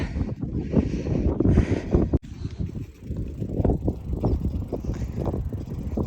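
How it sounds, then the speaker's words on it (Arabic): Strong wind blows at the Orange River on the Namibia–South Africa border, roaring and buffeting loudly against the microphone in continuous gusts, with one brief drop before it surges again. "الريح هاو يدس فيا وساعات على جنب"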